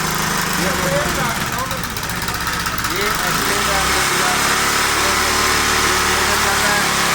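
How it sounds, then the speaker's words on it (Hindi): A generator runs on biogas made from waste, a loud continuous engine drone heard close up under someone talking throughout. "ये कचरे की गैस से ये जनरेटर चलाया जा रहा है।"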